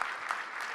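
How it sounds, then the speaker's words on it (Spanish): Brief burst of audience applause at a symposium panel, a dense even patter of clapping from a crowd, fairly quiet and continuous. "Quiero que le brindemos un fuerte aplauso a Ricardo Melchiori y todo su equipo"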